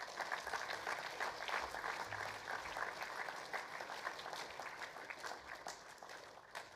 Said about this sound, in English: he deserves another round of applause